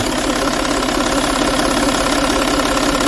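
A 3.0 HDI V6 diesel engine idles steadily up close during injector cleaning, a constant rumbling drone with a rapid knocking clatter throughout.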